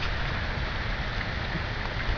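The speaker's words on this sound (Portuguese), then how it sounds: "por causa da chuva que não para" Heavy rain falls steadily outdoors at a campsite where a fire won't light, a dense, even hiss of drops with no breaks, moderately quiet and with no talking.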